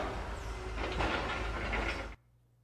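Elevator start effect from game audio: a dense mechanical rumble with sliding, rattling texture that swells slightly midway, then cuts off abruptly after about two seconds, leaving a faint low hum.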